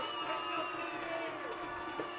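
Football crowd at a TCA vs JC high school game cheering after a 16-yard run, a steady, dense roar of many voices, fairly distant and sustained throughout.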